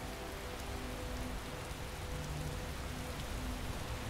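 Steady rain falls in the video game Skyrim, a continuous hiss of droplets on surfaces with no voices over it, low-pitched rumble underneath and faint musical tones drifting through the wash.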